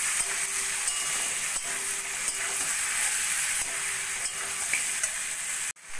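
Vegetables with chopped green chillies, tomato and Kashmiri chilli powder are stirred in a hot pan for sambar dal, giving a loud, steady, close sizzle with a brief scrape near the end.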